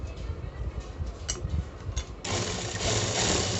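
A sewing machine stitches 30-inch elastic into a loop for a palazzo waistband, a steady mechanical whir that grows louder and more continuous partway through, close by.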